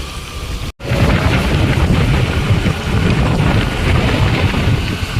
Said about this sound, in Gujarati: હમણાં વાદળ ચડીને આવતું હતું ને ત્યારે થોડોક વરસાદ આવી ગયો